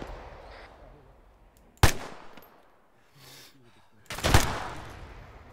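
Two loud, sharp bursts of gunfire from an ArmA battle crack out close by, a few seconds apart, with quieter rumbling noise and faint movement between them.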